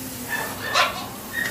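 A small dog at a rescue shelter lets out a short bark or yip near the middle, with softer whimpering yelps at either side, set against a constant background hiss.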